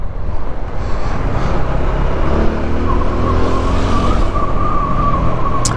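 Road traffic passing on a rainy ride between Ooty and Rameswaram, heard as a steady broadband vehicle rumble with a rising engine tone, continuous and fairly close, with no speech.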